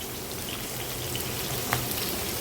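Carrot and onion frying together in a pan, a steady dense crackling sizzle that stays even and close throughout, with no voices.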